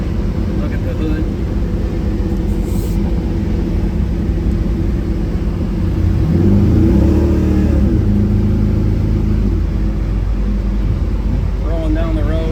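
A 1968 Chevrolet C10 restomod with an LS engine cruising at highway speed, a steady low drone of engine and road noise running throughout, swelling slightly midway, with a person talking over it.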